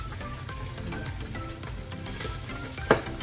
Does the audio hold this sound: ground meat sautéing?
yes